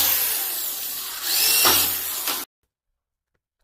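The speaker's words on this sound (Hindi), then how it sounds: "से मैं होल कर रहा हूँ ड्रिल मशीन में। 6 mm के बिट को लगाकर सभी जितनी भी हमने कटिंग की है पीस की, उनमें होल कर लेना है।" A drill machine with a 6 mm bit bores holes in plywood: a close, steady whine that rises briefly as the bit bites, then stops abruptly, leaving silence.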